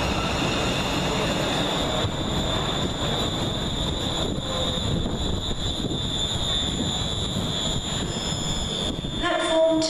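Class 354 electric multiple unit 354.10 pulls into Penrith station bound for Manchester Piccadilly, a steady hum and rumble of the train running close by throughout, with a faint squeal and brake hiss near the end.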